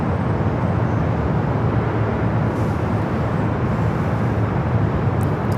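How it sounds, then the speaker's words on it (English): A Japan Airlines Boeing 777-300ER bound for Tokyo Haneda at Los Angeles LAX airport, a steady loud jet engine roar that stays constant throughout, with no talk. "Flight heading to Tokyo Haneda, flight with Japan Airlines, the 777-300ER"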